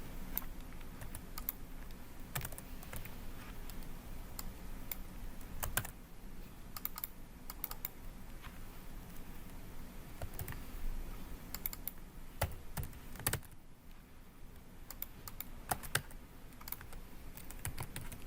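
Keyboard shortcuts typed on a computer keyboard: continuous quiet, close key tapping with scattered sharper clicks throughout, steady and uninterrupted, with no talking.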